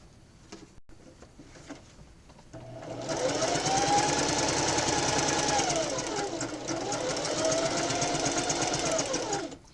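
A sewing machine stitches a decorative pattern across a quilt at width 4 and tension 3, first clattering quietly and then running loud and continuous with a rhythmic, rising and falling whine.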